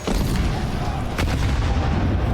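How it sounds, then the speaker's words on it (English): Grenade blasts in a Counter-Strike match at a pro tournament, a dense, loud booming barrage with a sharp burst near the middle, continuous low rumble throughout and no speech. "Double stack of grenades"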